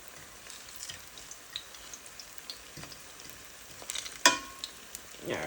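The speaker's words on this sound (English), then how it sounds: "make it fry a little more before we can move it" Banana fritters fry in hot oil with a quiet, continuous crackle peppered with small pops, one sharper spatter standing out near the end.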